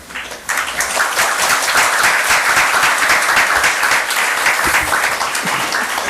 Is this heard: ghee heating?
no